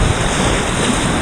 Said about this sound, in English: Just a couple big waves